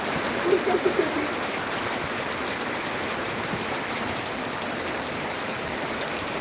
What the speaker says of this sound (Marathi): एक नंबर पाऊस चालू